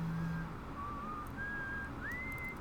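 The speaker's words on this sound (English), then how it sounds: "Got somebody whistling on this world." Someone whistles a wandering, sustained tune in the space exploration game Outer Wilds, heard over a steady low ambient background with no talk.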